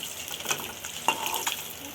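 A fried egg sizzles in a pan with a soft, crackling hiss, and a brief scrape or knock sounds midway as it is lifted out.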